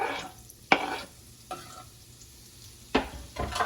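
Chopped shallot drops into melted butter in a pan over medium heat and sizzles softly, with several sharp scraping stirs of a utensil against the pan.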